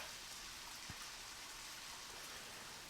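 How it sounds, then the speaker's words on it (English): Rain falls in Deadly Premonition, a faint, even hiss of steady rainfall with no other sounds. "It's still raining,"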